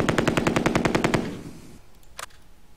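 A machine gun fires a rapid, loud burst of about a dozen shots in the wartime game Tigers on the Hunt. It fades into an echo, then one more sharp shot follows.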